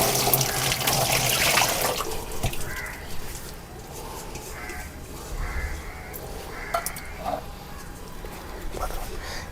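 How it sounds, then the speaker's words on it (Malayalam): Four litres of curd poured into a mixture of cow dung and ghee while making panchagavya, a steady liquid splashing and gurgling close by, with crows cawing in the background. "ഈ തൈര് നമ്മൾ ഇതിലേക്ക് ഒഴിച്ചു കൊടുക്കുകയാണ്"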